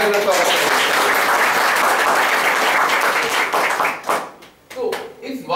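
An audience at a workshop session breaks into dense, sustained clapping that fills the room, then thins into scattered final claps as it fades out.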